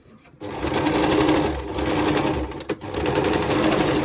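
A sewing machine stitches a churidar pant, running in a close, loud, continuous whir with a brief pause partway through.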